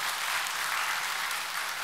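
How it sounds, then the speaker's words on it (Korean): A church congregation gives a steady, even round of applause in thanks, a dense wash of many hands clapping throughout with no voices over it. "우리 다시 한번 그분께 한번 감사의 박수를 올려드릴까요?"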